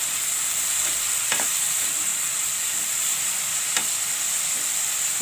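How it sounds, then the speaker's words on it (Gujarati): Onions soften in hot oil in a pan, giving a steady, even sizzle with a high hiss and two brief clinks of a spoon against the pan. "ઘડીક આપણે તેલમાં ડુંગળીને સડવા દેવું।"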